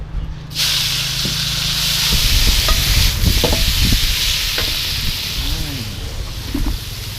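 Pork belly with banana peppers stir-fried in a wok, a loud steady sizzle and hiss with repeated scraping and clanking of a spatula against the pan.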